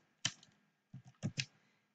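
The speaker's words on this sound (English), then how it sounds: "We will type the word Monday" Quiet, close keystrokes on a computer keyboard: one isolated click, a pause, then a short cluster of four taps in a quick uneven rhythm.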